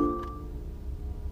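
A BMW i8 start-up: a soft electronic chime with a sustained tonal ring fades out quietly, followed by faint low background hum.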